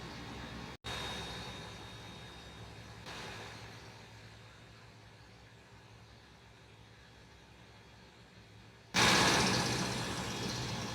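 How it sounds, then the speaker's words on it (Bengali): Engine room of the M Khan 7 river launch on the Dhaka to Barisal route, where the engine and a large generator make a loud, steady mechanical drone that cuts out briefly, then swells louder near the end. "আর এটা হচ্ছে ইঞ্জিন রুম ইঞ্জিনের সাথে মাঝখানে বড় একটা জেনারেটারও আছে"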